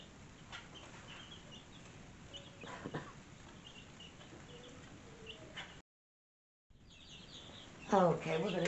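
Baby chicks peep in a brooder with thin, high chirps scattered through a steady background hiss, briefly interrupted by a gap, and a voice speaks over them near the end.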